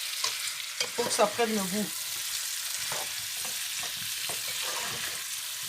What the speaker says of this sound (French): C'est important de un peu mélanger